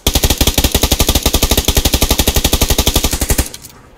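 Rapid automatic gunfire in the shooter game PUBG Lite, a loud, close burst of evenly spaced shots lasting several seconds before cutting off abruptly.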